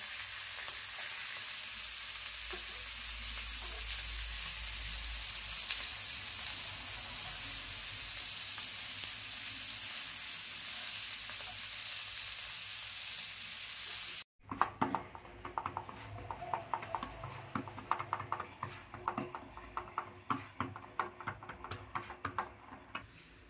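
Small fish frying in a pan with a loud, steady sizzle, then quieter crackling and light tapping as they are turned with tongs.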